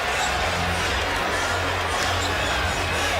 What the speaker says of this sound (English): And this crowd is now very much into it.